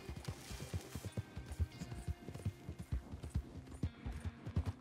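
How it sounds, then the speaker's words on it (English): Horse hooves clip-clopping in a Red Dead Redemption 2 roleplay game, a steady run of close, distinct hoof strikes on the ground with no talking. "it sounds like there's another horse around"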